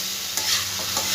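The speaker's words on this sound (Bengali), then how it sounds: "আমি ভেজে রাখা আলুগুলো সব দিয়ে দেবো। একটু ভালো করে নাড়াচাড়া করব" Fried potatoes being stirred with spices in a frying pan, a steady close scraping and sizzling that runs without pause for a moment.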